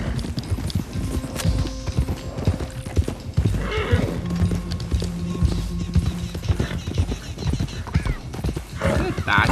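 Horse hooves clip-clop and a horse neighs in Red Dead Redemption 2, with gear and tack rattles mixed in and someone talking over the hoofbeats throughout.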